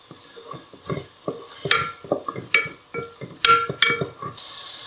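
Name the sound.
ginger garlic paste sauteing with tomatoes on medium heat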